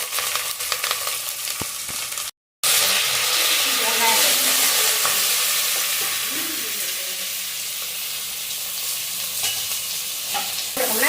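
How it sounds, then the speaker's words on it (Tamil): Mustard seeds, red and green chillies, curry leaves and small sambar onions crackle and sizzle steadily in hot oil for a sambar tempering, a close, continuous frying hiss with popping bursts and a brief gap of silence near the start. "கடுகு வெடிக்குது."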